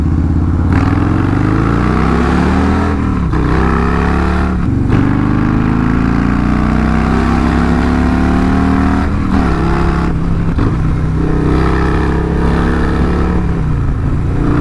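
A Stage 2 Harley-Davidson Low Rider ST with a Sawicki 2-into-1 exhaust accelerates hard, its loud, steady engine note climbing through the revs with gear changes, heard close from the rider's position and unbroken by talk.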